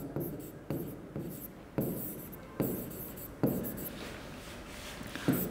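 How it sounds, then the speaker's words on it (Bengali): Chalk or pen writing on a board during a physics class, heard as a series of about seven distinct scratchy strokes, each a sharp onset trailing off, spaced under a second apart in a quiet room. "এখানে লিখছি আমি শর্টকাটে লিখছি"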